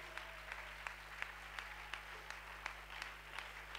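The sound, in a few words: congregation applauding and acclaiming in church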